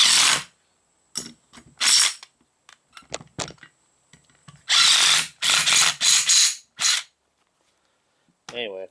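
A Porter-Cable power tool works on rusty bolts during a front wheel bearing replacement on a 2003 PT Cruiser, giving several sharp, loud ratcheting bursts close by, separated by short pauses and small clanks.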